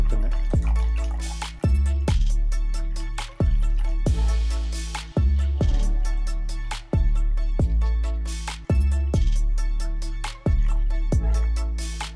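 Water trickles slowly into a small betta fish tank, producing a steady series of close, distinct drips and splashes in an even rhythm, with no voices.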